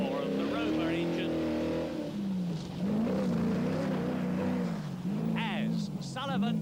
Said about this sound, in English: Just hear that distinctive, throaty roar of the Rover engine